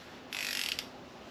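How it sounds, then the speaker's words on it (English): A single brief ratcheting burst from a 22mm socket wrench working on the fan belt pulley of a 1937 Austin 7, a close, crisp clicking lasting under half a second against a quiet background. "will I be able to screw it up using my socket wrench"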